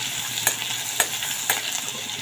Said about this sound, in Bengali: এখন তেলের মধ্যে রসুন কুচিটা দিয়ে দিলাম